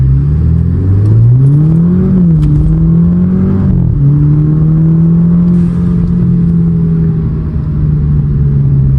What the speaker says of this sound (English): You can kind of hear the exhaust when you want to